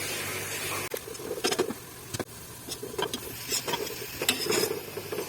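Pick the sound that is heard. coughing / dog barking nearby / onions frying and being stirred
onions frying and being stirred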